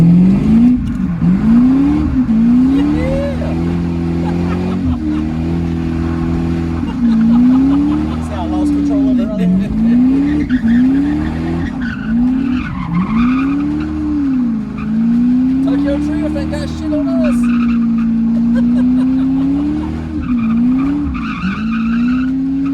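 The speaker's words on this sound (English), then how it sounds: "let's go ahead and go take a ride in the drift car again" A drift car with a small block Ford engine and Turbo 400 transmission, loud wavering engine revs rising and falling repeatedly with tire squeal during slides, heard close from inside the car with talking over it.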